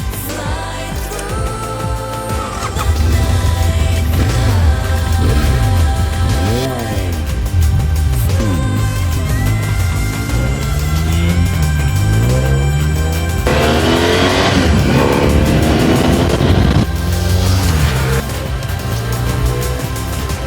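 A restored BMW F800 ST motorcycle pulls away on a test ride, its engine revving and rising in pitch through repeated gear changes, loud and steady throughout with a louder surge of wind and engine near the end.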